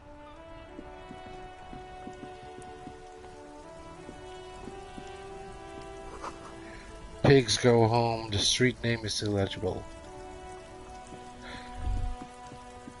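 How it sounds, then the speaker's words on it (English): Rain falls on the city streets of Revachol in the game Disco Elysium, a steady hiss and patter under the whole stretch, with a voice speaking over it partway through. "All around you, rain falls on the great city of Revachol."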